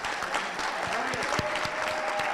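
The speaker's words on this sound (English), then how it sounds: "I'd also like to ask you to join me in giving another round of applause for our January" Audience applause for a January 2023 medical intern class at a white coat ceremony, steady dense clapping from a large crowd filling the hall, with a faint voice murmuring beneath.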